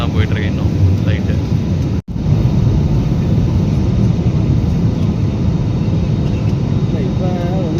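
A steady, dense roar fills an airplane cabin in flight, with a brief sharp dropout partway through and faint talk beneath the drone.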